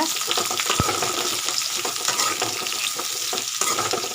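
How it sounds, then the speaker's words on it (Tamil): Sliced onions sautéing in a pan for salna give a steady, close sizzle, broken by frequent stirring scrapes and one sharp clack of a utensil, with no voices. "இப்போ அதை நல்லா கலர் வந்து சேஞ்ச் ஆகிற வரைக்கும் நல்லா வதக்கி விட்டுக்கலாம்"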